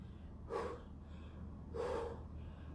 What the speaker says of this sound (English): Lots of breathing, guys.